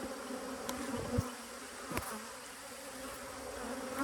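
Honey bees buzz around an open beehive at an apiary during a box change, a continuous faint drone with a few louder passes close by, no voices.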